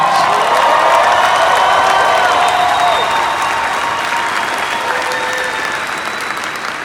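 A large audience at a Las Vegas convention applauds loudly, dense clapping mixed with cheers, whoops and crowd voices, tapering gradually toward the end.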